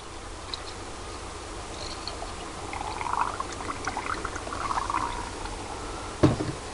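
Water pours in a steady, gentle stream for several seconds into a vehicle radiator during a flush, with faint insect chirps in the background and a sharp knock near the end.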